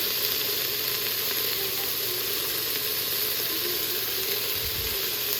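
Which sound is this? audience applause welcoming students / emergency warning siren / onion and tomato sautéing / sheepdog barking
onion and tomato sautéing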